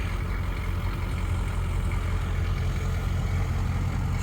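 A 1993 Chevrolet G30 box van, a former Air Force transport, idles with a steady low engine rumble that holds evenly close by, with no talking.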